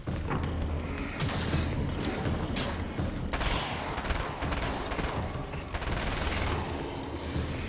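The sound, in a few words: SMG gunfire in video game Alan Wake's American Nightmare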